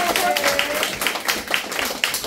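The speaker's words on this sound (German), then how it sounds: "Applaus für die Dame" A small audience gives a lady a round of applause at a Christmas party, with scattered, fairly close hand claps spread evenly through the moment and a voice speaking over part of it.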